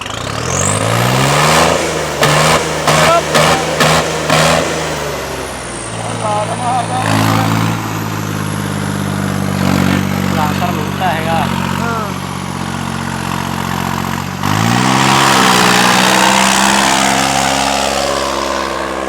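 A New Holland 3630 tractor, fitted with a replacement in-line fuel pump, starts up and is revved hard several times, its engine note rising and falling loudly and up close while someone talks over it.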